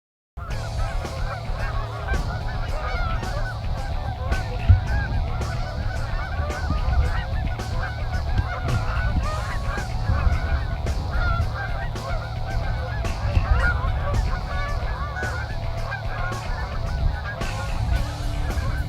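Geese honk continuously throughout a northern Minnesota goose hunt, a dense flock calling loudly and steadily with overlapping cries over a low rumbling background, no talking.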